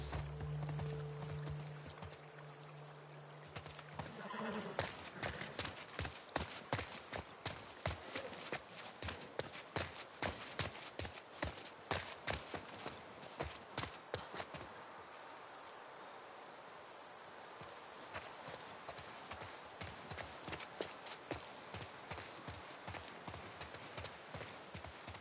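Horse hooves clip-clop in a steady, quick rhythm on a hard surface in The Last of Us Part II, continuing for a long stretch at a fairly quiet level.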